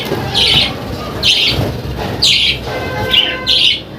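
Loud, harsh bird squawks come in five short bursts, repeated every second or so, close by, with faint chirps and background noise between them.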